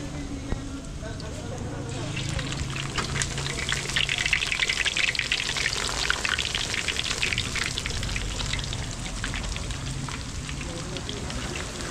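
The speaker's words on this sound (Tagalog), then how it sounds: "mag-start na tayo mag-fry sa cordon bleu" Breaded cordon bleu fries in hot oil, giving a steady crackling sizzle that swells after the first couple of seconds and stays loud and continuous, with a voice talking over it.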